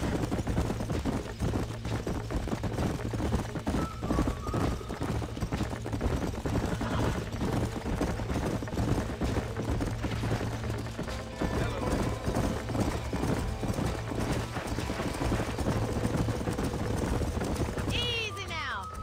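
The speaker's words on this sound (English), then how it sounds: "These are fine horses." Horses in the Red Dead Redemption video game clip-clop steadily throughout with an occasional whinny, set against a continuous game soundscape and talk.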